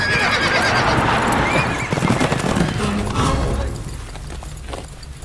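Horses gallop and neigh loudly during a chaotic buzkashi game in a film scene, with thudding hooves and repeated whinnies over a dense crowd-like roar that eases toward the end.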